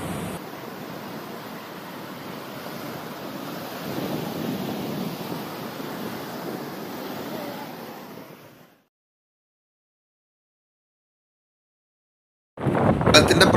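Strong coastal wind gusting at Tanur where the sea and river meet, a steady roaring rush buffeting the microphone for about eight seconds, then near silence before loud gusts return.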